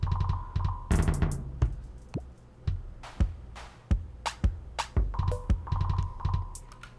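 Glitchy electronic drum kits built in Bitwig fire off at random, giving dense, irregular bursts of clicks, thumps and crunchy noise hits with shifting rhythm and no voice.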